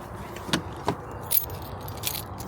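Keys jangle in a few brief bursts near a 2016-2018 Chevrolet Silverado pickup with a dead battery, sharp metallic clinks standing out over a quiet background with no talking.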